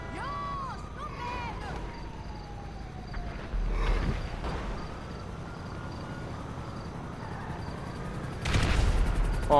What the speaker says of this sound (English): Oh man, I hear more explosions.